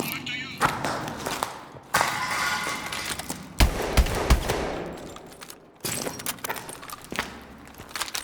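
Gunfire in Call of Duty: Advanced Warfare, with loud bursts of automatic fire and heavy thumps in several clusters over a busy game soundscape, with voices heard in the mix.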